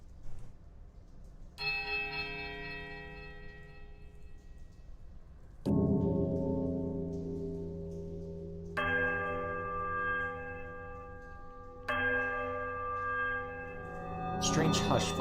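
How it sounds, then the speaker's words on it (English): Bells ring in the video game Pillars of Eternity in four separate resonant strikes, each one a long, ringing tone that fades slowly and overlaps the next, with a low ambient drone underneath. "muting the sound of the bells and the eternal drip of damp stone alike"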